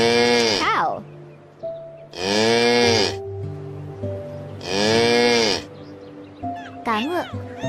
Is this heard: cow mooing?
yes